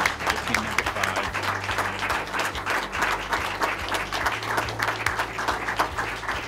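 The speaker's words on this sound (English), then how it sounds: "So let's have a round of applause for team number 5." Steady applause from a crowd at an engineering design awards event, dense clapping sustained throughout with a low hum underneath.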